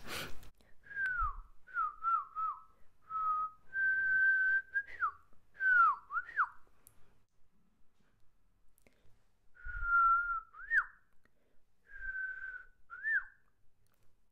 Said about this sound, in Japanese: 口笛を吹くことはできますか